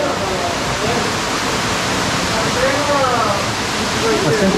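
A small waterfall on a tributary of the Rio Cari near Morretes, Paraná, pours in a steady, loud rushing wash that fills the whole clip, with a voice faintly speaking over the water.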